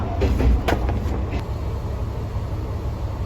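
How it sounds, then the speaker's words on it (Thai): Steady rumble and rattle inside a moving Isumi Railway train in rural Japan, a continuous low cabin drone with a few clunks near the start. "ก็นั่งรถไฟชมวิวชิลๆกันไปค่ะ"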